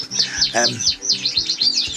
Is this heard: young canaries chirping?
yes